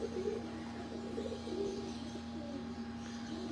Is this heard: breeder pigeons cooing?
yes